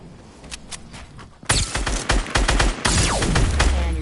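A SCAR assault rifle in Fortnite fires in rapid, punchy bursts, first fainter shots then a loud close volley of repeated cracks continuing to the end.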